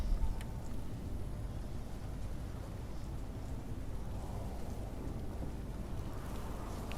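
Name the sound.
thunderstorm with rain in video game The Pillars of the Earth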